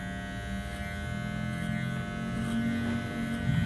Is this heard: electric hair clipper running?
yes